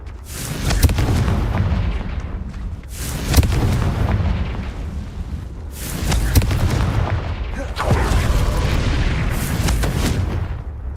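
Confringo blasting curses go off in Hogwarts Legacy as a series of four loud, booming explosions a few seconds apart, each with a heavy rumbling tail.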